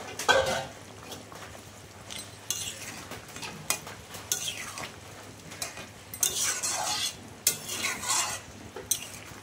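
Yam curry simmering in a pot as hilsa fish heads go in, with soft bubbling under intermittent scrapes and clinks of a spoon against the pan, fairly quiet and close.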